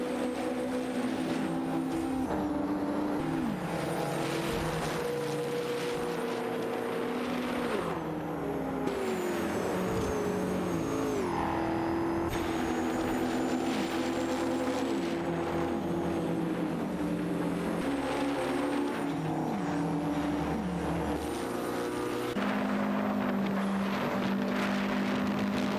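Race cars roar around a track in a racing video game, a Chevrolet Corvette SAR1 among them, engines rising and falling through gear changes as several cars pass in a loud, continuous stream.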